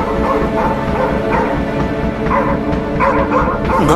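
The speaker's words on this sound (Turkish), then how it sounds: "Köpek." A dog barks and yips repeatedly amid a noisy, dense background scene, the rapid woofs coming in clusters and mixed with whimpering.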